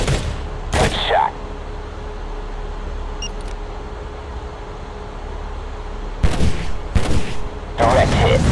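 Gunfire from the mobile shooter game Modern Combat 3 on a Poco X3 Pro: a few sharp, loud shots, one early and a cluster near the end, over a low steady background hum.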